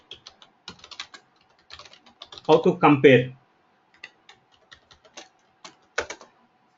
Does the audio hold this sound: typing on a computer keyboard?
yes